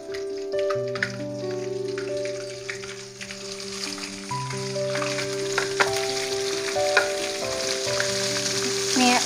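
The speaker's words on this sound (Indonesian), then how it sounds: "minyaknya sudah panas, kita bisa menggoreng jamurnya" Oil sizzles and crackles steadily as battered oyster mushrooms fry in a pan, close and continuous, with soft background music playing underneath.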